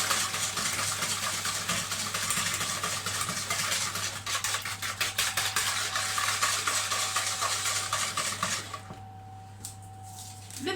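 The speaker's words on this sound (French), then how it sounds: "Et je mélange encore." Yogurt cake batter is stirred in a mixing bowl with brisk, close scraping strokes over a faint low hum, the stirring stopping shortly before the end.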